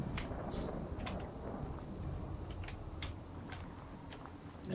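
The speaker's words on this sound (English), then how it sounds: "Where did this rain come from?" Steady rain in the video game Fallout 4, a soft continuous hiss with scattered drop patter, fairly quiet and alone with no talk.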